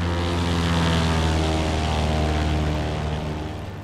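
A propeller airplane passes in the video game Last Train Home, a loud steady droning engine that holds for several seconds and then begins to fade, with no talk over it.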